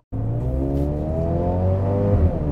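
A 2022 Mercedes-AMG GLB 35 engine drones steadily through its AMG exhaust with a low, even tone, close and clear with no talking over it.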